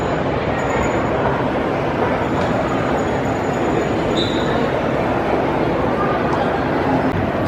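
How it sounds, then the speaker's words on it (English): A Chicago elevated L train rumbles steadily past above the streets with a broad, continuous roar of wheels on track, loud and close throughout, with faint high squeals near the end. "L train above the streets of Chicago."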